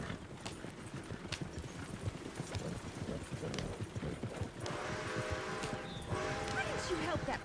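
Horse hooves clip-clop in a steady rhythm while people talk over them, with some faint background activity.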